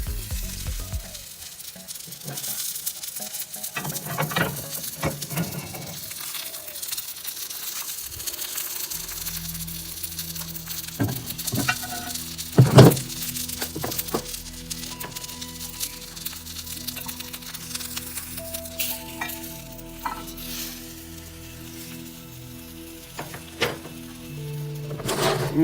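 Capsicums roasting at 300 degrees Celsius in an Onni Pro oven, sizzling and crackling steadily, with scattered pops and clicks and a low background hum.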